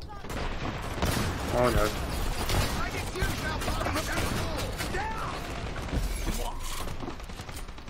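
Rapid bursts of video game gunfire in a tactical shooter match, dense overlapping shots and clatter under excited player voices talking throughout.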